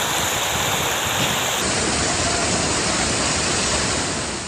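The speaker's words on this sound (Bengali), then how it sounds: "গর্জন তুলে হুঙ্কার দিচ্ছে বড় বড় ঢেউ, জানান দিচ্ছে রেমালের তেজ" Big storm waves pound the Bangladesh coast during Cyclone Remal amid heavy rain and high wind, a continuous loud roaring wash of surf with no break and no voices.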